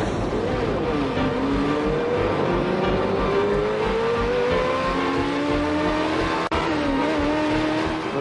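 A Ferrari luxury sports car engine in Maranello holds a smooth, rising and falling tone, steady and close, with no voices over it.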